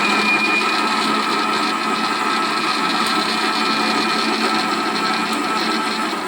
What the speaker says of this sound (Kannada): ಆದಮೇಲೆ ಲಿಡ್ ಕ್ಲೋಸ್ ಮಾಡಿ ಮಿಕ್ಸಿ ಮಾಡ್ಕೊಂಡು ಬರಬೇಕು.